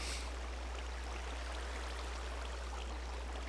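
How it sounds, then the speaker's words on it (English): Flowing and draining water in the Minecraft video game makes a steady, even rushing hiss that runs continuously at low level with no other sounds. "Let the water drain."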